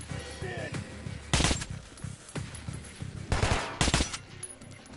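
Enemy gunfire in the Metro Last Light video game: several sharp, loud bursts of shots hit in uneven clusters over a steady game background, with a voice speaking briefly in between.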